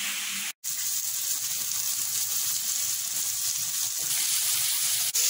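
Flour-dusted fish frying in a pan, a dense, even crackling sizzle that holds steady and fairly loud, broken by one brief gap near the start, no speech.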